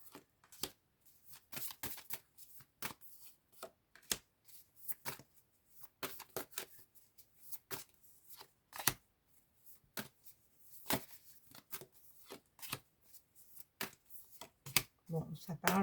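Tarot cards are shuffled repeatedly nearby, a series of soft riffling bursts and slaps with short pauses between them, fairly quiet, with light speech faintly present.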